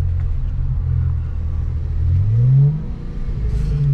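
A manual-transmission car pulls away with a learner driving, its engine droning loud and low, then revving upward as it accelerates toward the shift into second gear, dipping briefly before the drone resumes, with no talk.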